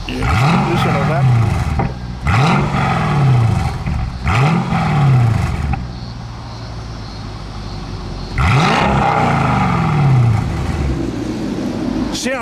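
A car engine revs hard again and again, four rising-and-falling roars split by a quieter idle, with a bit of exhaust popping, close and loud.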